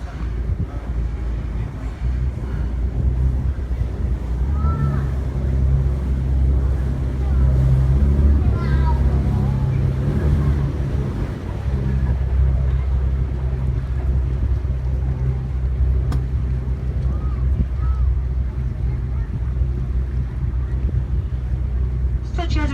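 A tour boat cruising the River Ouse in York, its engine a steady low rumble close by with wind buffeting the microphone and water noise, while a guide talks over it throughout.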